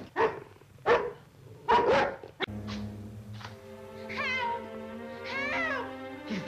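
Dogs on the grounds of a 1945 film setting bark in a few sharp bursts, followed by a sustained musical score with swelling tones.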